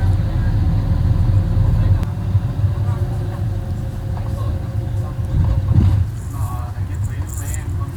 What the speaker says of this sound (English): The traffic is insane.